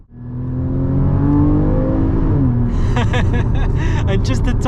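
A Porsche 981 Cayman GTS on a road drive, heard from inside the car: its engine climbs loudly and steadily, then rev changes bring sharp sweeping tones near the end, with a brief chuckle under the engine.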